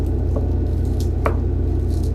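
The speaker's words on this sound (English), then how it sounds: "I'm going to start breaking it up using the spatula. And I also want to get a good mix of the beef and the pork." Ground beef and pork sizzle gently in a pan while a spatula breaks up the meat, giving a couple of short scraping pushes over a steady low hum.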